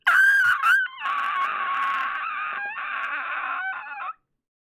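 During a tabletop D&D game, a human voice imitates a seagull, giving a few short squawks and then a long, nasal, wavering cry that cuts off abruptly.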